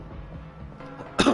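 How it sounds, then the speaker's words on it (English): A single harsh cough from an itchy throat bursts out near the end, loud and close, after a stretch of quiet, low room tone during Vampyr gameplay. "Sorry about the coughing."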